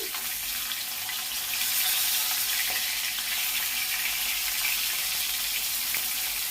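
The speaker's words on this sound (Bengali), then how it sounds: "মাছ লাল লাল করে ভাজা আমার হয়ে গেছে। আমি এবার মাছগুলোকে তুলে নেব।" Fish frying in hot oil until reddish-brown make a loud, dense, continuous sizzle close up as they are lifted out of the pan, with no voices.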